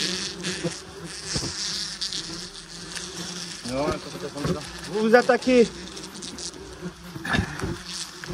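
Wasps buzz in swarms around a nest, a steady insect hum with close passes, under French speech throughout.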